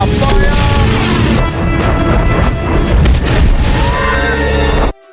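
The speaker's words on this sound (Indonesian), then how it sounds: "Tim pemburu melepaskan tembakan peledak dalam air" Loud, dense rumbling booms and crashing impacts of underwater explosive shots fill the scene continuously, with sharp metallic pings cutting through, ending abruptly.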